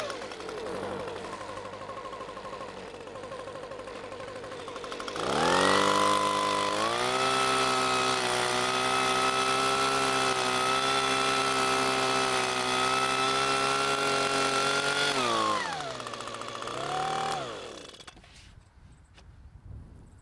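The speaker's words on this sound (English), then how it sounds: "once we start up the engine and we get some suction going, that basket is going to stay in place" Engine-powered turf vacuum starting up and running steadily with a strong droning motor tone while suctioning turf, holding for about ten seconds before winding down and cutting off.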